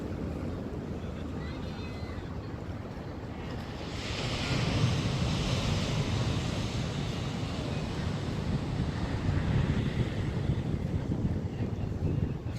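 Ocean surf rolls onto a beach during a seaside wedding, a steady wash of waves and wind noise that swells louder midway and keeps going throughout.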